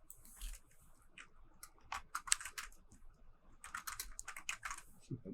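Wi-Fi password being typed on a computer keyboard, two quick bursts of close, clicky keystrokes separated by a short pause.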